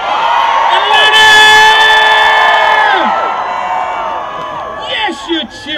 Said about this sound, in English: Yes, you're cheering. Yes, you're shouting.